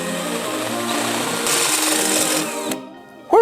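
A drill fitted with a step bit bores out a hole on a Honda Shadow fender and sissy bar fitting, a loud steady whirring grind that cuts off abruptly near the end.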